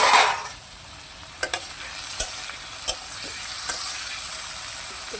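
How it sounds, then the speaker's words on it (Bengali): Vegetables fry in a hot wok with a steady broadband sizzle, a louder burst at the start and several sharp scraping stirs of a utensil against the pan. "আর কড়াতে সবজিগুলো তুলে দিয়েছি।"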